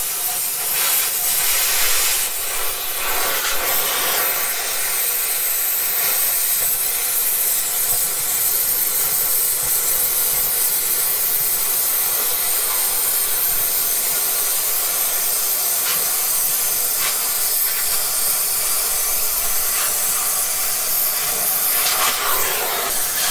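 A gas axe (oxy-fuel cutting torch) burns through a trailer axle, a steady close roaring hiss holding for over twenty seconds with slight flutters in intensity.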